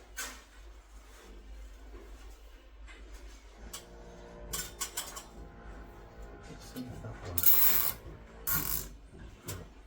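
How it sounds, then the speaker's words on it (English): A ratchet strap is worked tight: a run of rapid clicking ratchet ticks and rattles at close range, coming in uneven bursts that get louder toward the end, with no talk. "I'm going to tie the ratchet strap in place"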